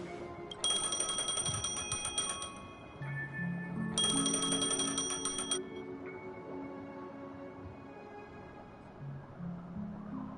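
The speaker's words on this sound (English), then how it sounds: "A phone." Phone ringing in the video game Honkai Star Rail: two bright bursts of rapid electronic bell trilling, each lasting about two seconds with a pause between, loud over a soft in-game music bed.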